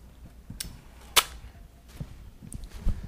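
A fire-element weapon fires in Borderlands 2, with a single sharp crack near the middle standing out above quieter game ambience and a few softer pops around it.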